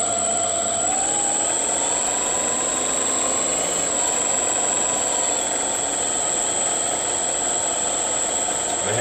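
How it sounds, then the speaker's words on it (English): A Sieg mini lathe running at low speed with its carriage driven along the lead screw, giving a steady, even mechanical whir with a high whine held constant throughout, close and uninterrupted. "Now you'll see the carriage move slowly towards the headstock now."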